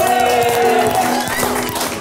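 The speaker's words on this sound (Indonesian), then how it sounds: "Kita kasih tepuk tangan sekali lagi buat Vicong" Audience applause for Vicong at the close of a talk show episode, a continuous wash of clapping and crowd noise held at an even level throughout.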